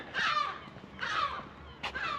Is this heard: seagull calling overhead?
yes